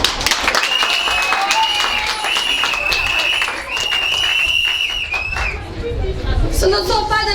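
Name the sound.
audience applauding at student election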